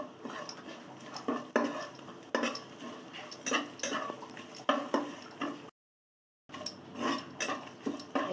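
Stirring and frying in a pan with turmeric while cooking badi, a spoon scraping and clinking against the metal pan in repeated close strokes, with a brief gap of silence.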